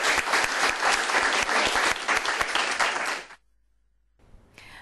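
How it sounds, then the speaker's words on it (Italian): Crowd applause at an award ceremony in Treviso for young champions, dense and loud with steady clapping for about three seconds, then cutting abruptly to near silence before faint sound returns. "Un applauso"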